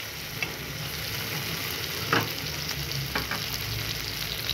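Spaghetti with cherry tomatoes and basil cooking in a pan as it is stirred, a steady close sizzle with occasional soft scrapes of the utensil and no voices.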